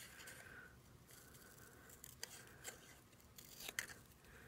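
Scissors snip paper for a handmade Halloween card, with soft small cuts and a few sharper clicks against quiet background hiss; faint overall.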